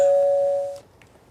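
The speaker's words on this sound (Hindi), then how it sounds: "दरवाजे पर घंटी बजी।" A single doorbell chime rings out as a clear sustained electronic tone that fades after under a second, leaving near silence.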